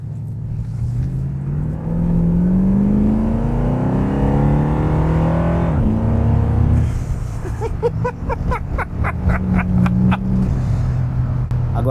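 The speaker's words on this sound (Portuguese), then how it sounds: "tudo o que vamos fazer é simplesmente pisar fundo e ver como é a sensação" A 1973 Jensen SP with a 7.2-litre V8 accelerates hard, its deep engine note climbing steadily in pitch, dropping at a gear change and rising again, loud and close throughout.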